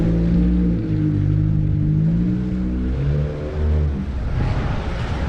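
A car drives past nearby, its steady engine drone shifting in pitch as it rises and eases off over several seconds, with no voices.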